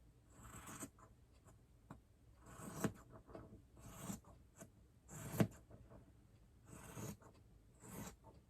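A marker or pen draws a line across minky fabric above the selvage, giving faint repeated scratchy rubbing strokes in short bursts with quiet gaps between them.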